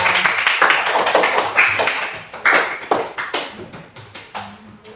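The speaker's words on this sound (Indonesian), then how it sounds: "Tepuk tangan." A small classroom group of students claps for a classmate: a few scattered, uneven hand claps rather than a full ovation, fairly close and tapering toward the end.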